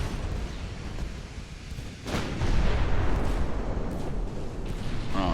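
Heavy naval gunfire from warship broadsides in Ultimate Admiral: Dreadnoughts, deep booming salvos that swell from a steady rumble into a louder, sustained roar of cannon blasts.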